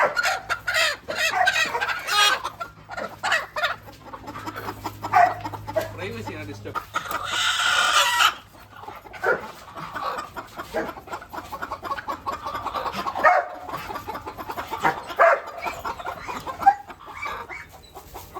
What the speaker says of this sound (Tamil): இதுக்குள்ளே இருக்க கோழிலாம் என்ன கோழி?